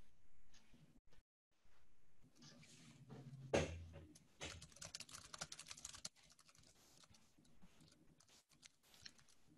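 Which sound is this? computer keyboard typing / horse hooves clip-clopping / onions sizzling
computer keyboard typing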